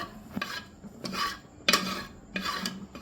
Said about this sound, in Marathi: आता हिला घोटून घेते मी हे बघा ह्या पद्धतीने